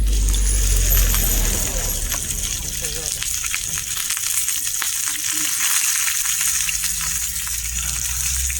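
Fresh tilapia, coated in semolina, fries on a hot griddle with a steady, close sizzle and crackle throughout, with some clinks and brief talk in the background.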